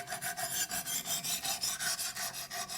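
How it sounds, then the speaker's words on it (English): A sharpening stone on a Wicked Edge sharpener drawn up a knife blade from spine to cutting edge, a quick even run of about fifteen close raspy strokes in steady rhythm. "I just drag it up the knife from the spine towards the cutting edge"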